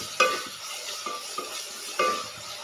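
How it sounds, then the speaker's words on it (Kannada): Onions frying in a pan, a soft sizzle broken by a few sharp scrapes and taps of a spoon stirring against the metal, close and without voices. "ಹೀಗೆ ಚೆನ್ನಾಗಿ ಒಂದು 2-3 ನಿಮಿಷ ಚೆನ್ನಾಗಿ ಫ್ರೈ ಮಾಡಿ"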